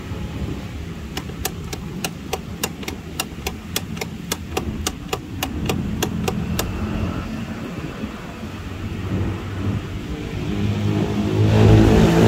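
Motorcycle ignition switched on and off repeatedly to clear an FI check-engine error, giving a rapid run of sharp clicks at an even rhythm, then an idling engine rumbling and building louder near the end, with no talking.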